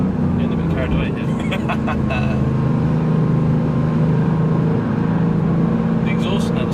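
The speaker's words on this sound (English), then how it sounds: "The exhaust note sounds different as well." A Mercedes-AMG GT R's engine and exhaust drone steadily throughout on a race track, loud and close, with a voice talking over it.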